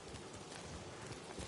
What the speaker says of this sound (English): so how do I get my horse?